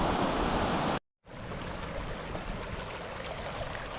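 Tenaya Creek on the Sunrise Trail in Yosemite rushes steadily as a loud, close, broadband roar of flowing water, briefly cut to silence before resuming just as strong.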